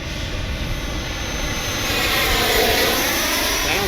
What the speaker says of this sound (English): I like that afterburner